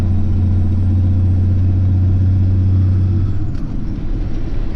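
Peterbilt 359 truck engine running up close in a deep, loud, steady rumble, then easing off after a few seconds.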